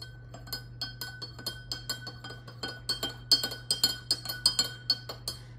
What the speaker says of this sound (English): Continue stirring until you notice a chemical reaction change.